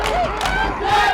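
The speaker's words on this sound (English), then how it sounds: "Seems like crowd getting loud again." A football game crowd roars loudly and steadily for about a second, a dense wash of cheering and babble with a few voices rising above it.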